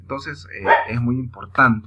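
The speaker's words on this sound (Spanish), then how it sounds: "si oyen ahí que está ladrando" A small pet dog barks a few short times indoors, the barks mixed in with a person speaking Spanish.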